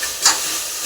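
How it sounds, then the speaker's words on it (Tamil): Tomatoes sauté in a frying pan with a brief hissing sizzle and a quick stirring scrape, close and alone. "தக்காளி போட்டு நல்லா வதக்கிக்கலாம்."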